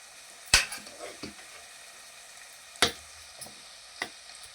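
Pav bhaji vegetables topped with coriander are stirred in a pan, a quiet simmering bed broken by a few sharp metallic knocks and scrapes of the spoon against the pan.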